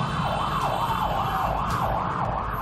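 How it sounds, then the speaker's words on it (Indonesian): A wailing emergency-style siren sounds on a busy Jakarta street during a Heroes' Day moment of silence, rising and falling in a steady repeating cycle, loud and continuous over traffic noise. "Sirine juga dibunyikan untuk mengimbau pengendara agar berhenti sejenak untuk mengheningkan cipta bersama-sama."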